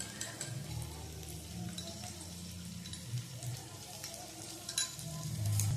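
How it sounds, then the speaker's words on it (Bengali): Sauces stirred with a spoon into frying capsicum and onion for a quick mushroom dish: a soft, continuous sizzle with faint scraping of the spoon, heard quietly throughout. "এবার চামচ দিয়ে সমস্ত সসগুলো মিশিয়ে নেব"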